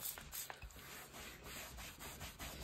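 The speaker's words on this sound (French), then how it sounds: "je vais déjà nettoyer mon plan de travail" A craft work surface is wiped clean with quiet, continuous rubbing and scrubbing strokes, heard close up and faint, with no talking.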